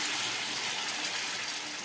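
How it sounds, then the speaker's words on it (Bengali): Water gushes into a pan of frying spices and ghee, making a continuous loud hissing splash that lasts the whole brief moment. "আর একটু জল দিয়ে দিচ্ছি।"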